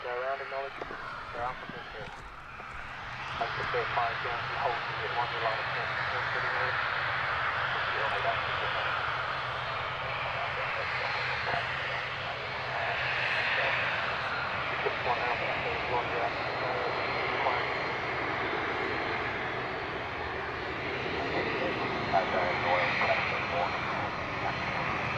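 Jet engines of an Emirates Airbus A380 at Gatwick Airport roar in a broad, sustained rumble that swells and eases over time, while people talk throughout.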